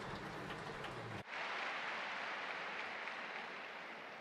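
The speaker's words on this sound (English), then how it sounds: "Let's give them another round of applause." A large crowd at a presidential inauguration ceremony in Kigali applauds in a broad, distant wash of clapping after a brief cut, sustained and slowly fading toward the end.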